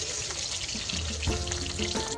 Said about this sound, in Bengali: আলুটাকে লাল লাল করে ভেজে নিচ্ছি